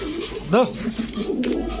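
A large pigeon gives a short throaty coo amid a noisy, crowded pigeon market with voices around.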